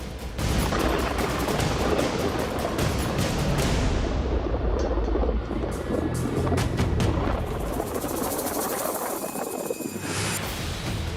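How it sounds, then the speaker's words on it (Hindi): Rocket, bomb and missile explosions rain down over a city under Israeli strikes at night, a continuous loud roar of blasts and rumbling booms with no talk. "आसमान से बरसते रॉकेट, बम और मिसाइलों का शोर"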